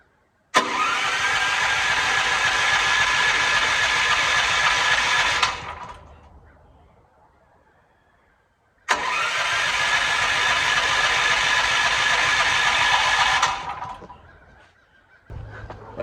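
An engine on a farm setup, switched from propane to gasoline, cranks and roars into a loud steady run for about five seconds, dies, then does the same again after a short silence.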